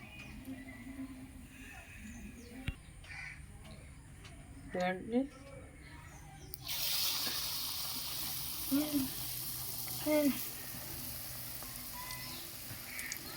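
Green chili bajji frying in hot oil: a steady broadband sizzle rises midway and continues to the end, with someone talking over it throughout.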